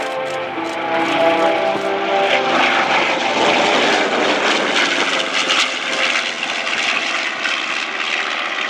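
A B-25 bomber flying a solo display at an airshow, its propeller engines producing a loud, steady droning roar that swells and holds as it passes, with no talk over it.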